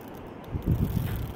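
Wind on a swaying gorge bridge in the mountains near Mürren, Switzerland, buffets and rumbles against the microphone in a low, steady roar that swells briefly midway, with no voices.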